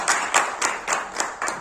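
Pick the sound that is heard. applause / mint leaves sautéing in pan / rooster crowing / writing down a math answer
applause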